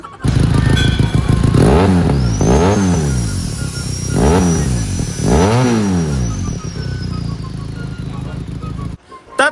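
A motorcycle fitted with an aftermarket exhaust pipe revs hard four times in close succession, each rise and fall loud and near, then settles into a steady idle before cutting off.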